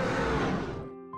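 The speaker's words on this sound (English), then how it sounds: "yeah, that's the demon sound that I was talking about." An eerie demon sound from a video game opens as a dense, noisy roar, then thins within a second into a ringing, tonal tail that fades out. It plays alone, without talk.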